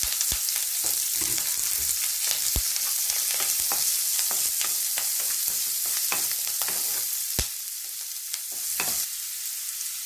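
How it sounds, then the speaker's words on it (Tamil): Garlic, onion and curry leaves fry with popping mustard seeds in hot oil, a steady near sizzle broken by sharp crackles and pops throughout, with occasional stirring and no voices. "இப்போ வெங்காயம் சேர்த்துக்கலாம் கூடவே கருவேப்பிலையும்"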